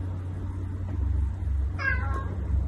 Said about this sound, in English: I just had a meow off of them.